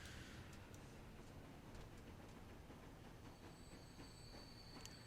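A game train in Transport Fever rolls along its rails with a constant wash of rail noise, faint wheel squeals and light clicks, all quiet and steady.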